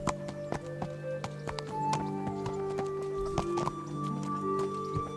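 Horse hooves clop in the medieval video game Kingdom Come Deliverance, sharp irregular hoofbeats up close over a low music drone.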